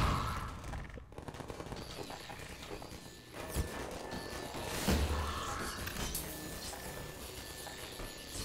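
Turret gunfire in Half-Life 2, a dense stretch of rapid shots and impacts layered over steady game noise, with louder bursts near the middle of the passage.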